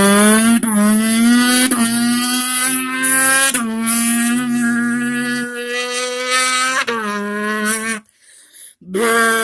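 A human voice imitates a Nissan GTR engine by mouth, a loud buzzing drone that climbs in pitch through repeated gear-shift revs, dropping and rising again several times before a brief pause and a final burst.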